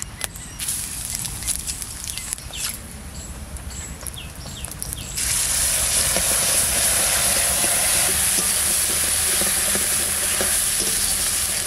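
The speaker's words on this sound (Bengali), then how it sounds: "একটা তেজপাতা আর একটা শুকনো লঙ্কা ছিঁড়ে দিয়ে দিচ্ছি, আর দেবো জিরে অল্প।" Bay leaf, torn dried chilli and cumin hit hot oil in a pan, with quieter handling and stirring first, then an abrupt, loud, steady sizzle that holds to the end, close up with no talk.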